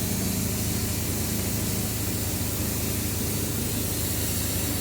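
Spray foam insulation is sprayed from a rig hose on a construction job, giving a steady, loud hiss with a low pump drone underneath, continuous for the whole stretch without pause.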